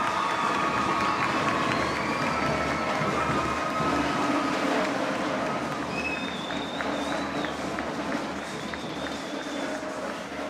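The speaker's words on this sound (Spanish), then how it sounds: "Fuerte el aplauso para estos chicos." An audience at a regional school oratory contest final in Chiriquí applauds students, a steady, dense wash of clapping and cheering that fills the hall for the whole stretch without letting up.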